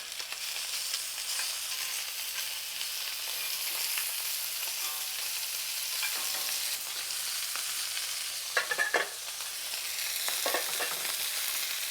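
Lamb chops fry in a pan after being flipped, giving a loud, constant sizzle with a couple of brief clatters from a utensil near the end.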